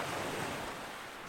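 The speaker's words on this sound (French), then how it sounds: "Vous vous laissez porter quelques instants par le bruit des vagues." Ocean waves rolling onto a beach, a steady broadband wash of surf with soft hissing breakers, continuous and fairly close, no voices.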